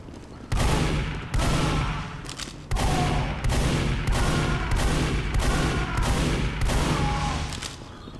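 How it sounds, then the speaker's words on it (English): Repeated scattergun blasts in Team Fortress 2, a series of loud, close booming shots fired at a steady pace, each with a short trailing echo. "the closer you are, the deadlier your shots are for your scattergun"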